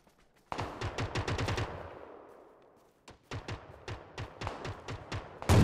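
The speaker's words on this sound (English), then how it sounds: "Someone's shooting up top." Gunfire from above in PUBG: a rapid burst of automatic shots, a short lull with fading echo, then a sustained run of evenly spaced shots, moderately loud with no talking.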